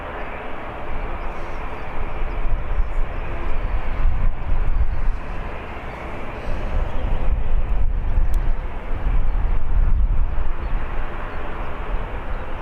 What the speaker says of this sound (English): Looks like EasyJet on the move.